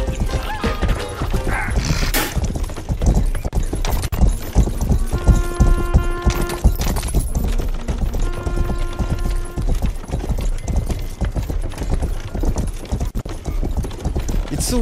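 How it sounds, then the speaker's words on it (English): A horse gallops in the medieval open-world game Rustler, its clip-clop hoofbeats drumming steadily and loudly throughout, joined by a couple of short musical chimes partway through. "Oh, that's a fast horse."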